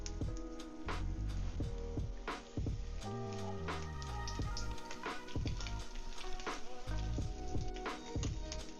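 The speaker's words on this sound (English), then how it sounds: "Fish is going in." Branzino fish fries skin-side down in olive oil with ginger slices, a soft bubbling sizzle under a bed of background music with regular thumping beats.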